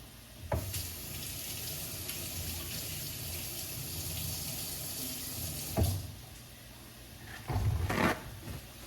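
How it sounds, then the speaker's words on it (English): Hands are washed under running tap water in a home kitchen: a steady, moderate stream runs throughout, with brief splashes and clunks near the start, middle and end. "I'm gonna wash my hands real quick."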